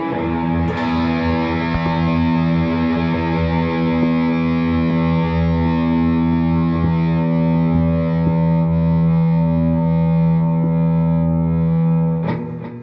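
A Squier Affinity HSS electric guitar on its bridge humbucker pickup rings out a sustained distorted chord, loud and droning with steady hum, a faint pick scrape at the start and end.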